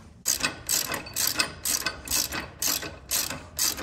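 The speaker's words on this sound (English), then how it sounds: "Tighten up the first one." A ratchet wrench tightens a bolt on a 2016 Harley Davidson Street Glide's Kuryakyn extended brake lever, giving seven or eight quick, close clicking bursts in a steady back-and-forth rhythm with no talking.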